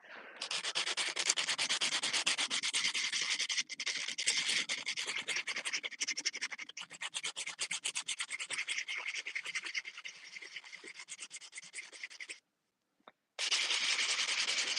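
Clay pots sanded by hand, a steady dry rasping scrape repeated in quick strokes, close and fairly loud, pausing briefly near the end before resuming.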